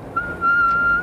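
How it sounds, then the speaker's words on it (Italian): A continuous single-tone whistle-like signal received from the sky holds one steady pitch, starting briefly, pausing, then sounding loud and unbroken for over half a second before cutting off, alone without voices. "Ascoltiamo sia i segnali continui a una sola tonalità, come un fischio"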